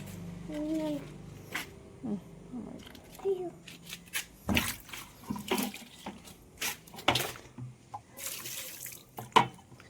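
Water poured out on a farm, heard as intermittent splashing bursts between people talking nearby.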